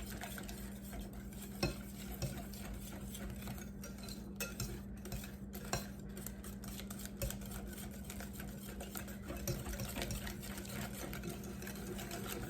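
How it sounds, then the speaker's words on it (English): A whisk beats banana bread batter of mashed bananas, eggs and oil in a bowl, making a continuous rapid scraping and clinking close by over a low steady hum. "Now we're just going to whisk this all together real good."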